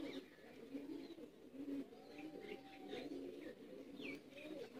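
Bateray chuha pigeons, a male among them, coo in soft repeated phrases with scattered higher chirps from nearby birds, a steady murmur close to the listener with no talk.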